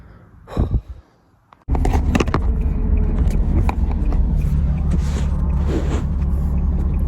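A car just back from a throttle repair pulls away with a deep, loud engine rumble that kicks in abruptly after a few quiet seconds and holds steady close by.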